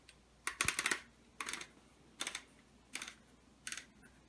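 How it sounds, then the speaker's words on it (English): Metallic clicks from a Browning A-5 shotgun as the magazine tube, barrel and cap are reinstalled during reassembly, coming as four or five short, sharp bursts of clatter close up with quiet gaps between them. "The new production models, you can hear the clicking."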